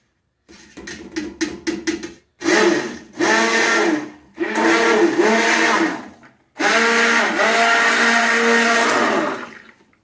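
A loud blender mixing cold process soap in a metal pot whirs in several bursts, starting with a quick stuttering pulse, then longer steady runs with a ringing, metallic resonance.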